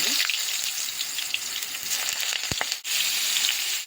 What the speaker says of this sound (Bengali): তেল দিয়ে দিচ্ছি, দিয়ে দেবো শুকনো লঙ্কা